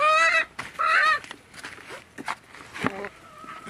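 A free-range village hen gives two loud, drawn-out calls of the kind hens make before laying an egg. Quieter clucks, shuffling and a few faint voices follow.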